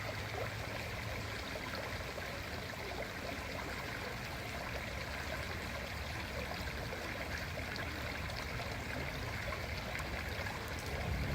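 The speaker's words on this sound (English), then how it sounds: "My favorite part of the park was easily the large creek." A large creek in a park flows with a continuous, fairly soft babbling rush of water, even and unbroken over several seconds, with no one talking.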